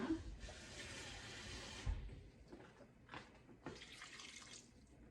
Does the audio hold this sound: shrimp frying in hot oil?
no